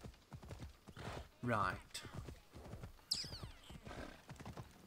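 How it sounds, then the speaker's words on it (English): Horse hooves galloping in Assassin's Creed Odyssey, a steady clip-clop under continuous talking, with a brief whinny partway through. "Sorry, just riding through your house on a horse."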